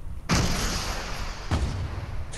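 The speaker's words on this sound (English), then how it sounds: "Rocket goes off." A rocket explosion in Fortnite: a loud, close blast that rumbles on, then a second boom about a second later, with no talk over it.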